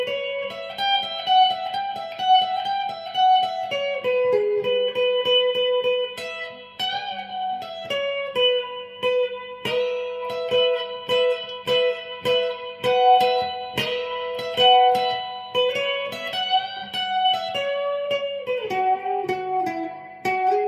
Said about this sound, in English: that is how you play the guitar, the first guitar solo